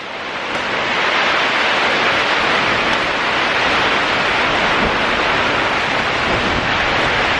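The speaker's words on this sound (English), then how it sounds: "If you ever wondered what it sounded like in a greenhouse when it's raining" A loud, steady hiss of light rain pattering on the plastic sheeting of a hydroponic greenhouse, dense and continuous with no voices.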